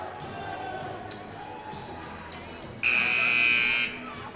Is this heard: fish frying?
no